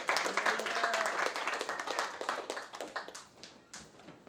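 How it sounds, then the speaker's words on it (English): A small audience at a poetry reading applauds poet Damian Rucci, scattered hand claps and a few cheers that thin out and fade toward the end, fairly quiet and close. "Please give a warm applause for Damian Rucci."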